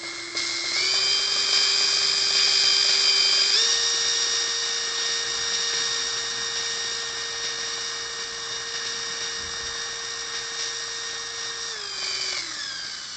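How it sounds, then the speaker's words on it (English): Whining whir of a power drill spinning a bit with black tape on the bit holder, its pitch stepping up as power rises, holding, then winding back down at the end; close and alone with no talk. "I will throw my drill in here. I've just got a piece of black tape hooked up to my bit holder, and we'll spin that through a couple different power levels."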